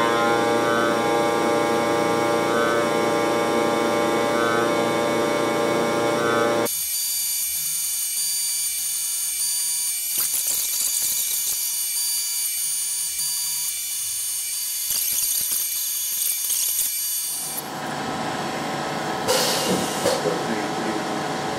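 Tormach 1100MX CNC mill facing an aluminium part, a steady loud tonal whine that cuts off abruptly, followed by lower machining noise with scattered clicks and a later burst of high cutting sound.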